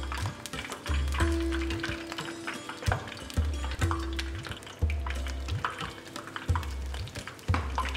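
Water lily fritters deep frying in oil over medium heat, a steady close bubbling sizzle with repeated soft clinks and scrapes of a slotted spoon against the pan.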